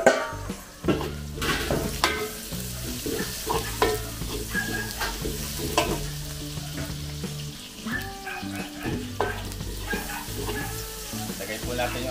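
Onion or garlic sautés in a hot pan, giving a steady close sizzle broken by frequent scraping stirs, with no one talking.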